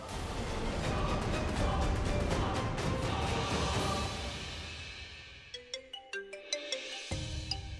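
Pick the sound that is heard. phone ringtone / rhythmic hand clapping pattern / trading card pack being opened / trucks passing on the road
phone ringtone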